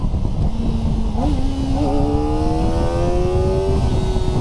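Kawasaki ZX4RR 400cc inline-four sport bike revving high, a loud rising engine whine with steady harmonics climbing in pitch over several seconds, close and continuous.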